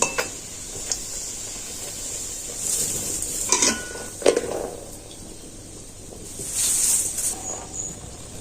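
Rotis deep-frying in hot oil, a close steady sizzle broken by sharp metal clinks and scrapes of a ladle against the pan as pieces are turned and lifted out.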